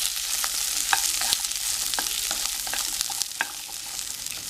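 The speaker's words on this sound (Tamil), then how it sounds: "இஞ்சி, பச்சை மிளகா இதெல்லாம் சேர்த்து நல்லா வதக்கிக்கலாம்" Ginger and green chilies sautéing in a pan, with a continuous close sizzle broken by frequent scraping stirs and small sharp crackles, and no voices.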